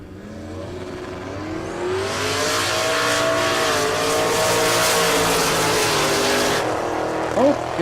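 A drag race car with a failing 6-liter engine in a Pontiac G8 roars down the strip at a Texas drag event, a loud building engine note that sweeps upward and holds before dropping away, with faint crowd or announcer sound under it.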